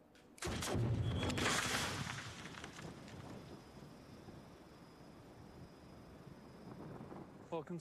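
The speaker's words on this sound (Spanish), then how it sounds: "El tubo de metal estallaba cuando salía por la boca del cañón" A single loud cannon blast firing canister shot, with a booming, crackling burst, followed by a long fading rumble and faint background voices.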